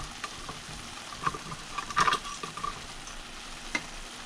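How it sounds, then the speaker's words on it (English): A spoon stirring a pot of rice and beans over a low, steady simmer, with scattered scraping clicks and a brief louder clatter in the middle, close and without talk. "Give it a quick stir"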